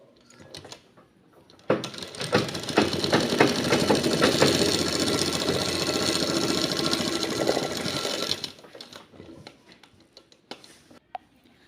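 A sewing machine stitches across a trouser pocket in one sustained rattling run of several seconds, preceded and followed by quiet handling clicks.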